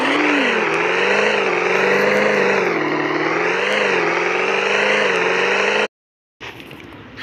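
A car engine in a video game revs steadily with rising and falling pitch, loud and alone, cutting out briefly near the end.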